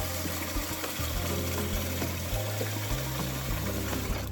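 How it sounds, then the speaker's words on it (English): Running tap water splashes and gurgles steadily into a sink while rinsing a raw chicken, with small shifts in tone as the flow is moved around. "So I am rinsing this out."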